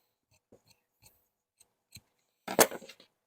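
Scissors trim sewing thread on a hand-sewn waistcoat pocket, with a few faint, sparse snips followed by one louder, closer cut near the end in an otherwise quiet room.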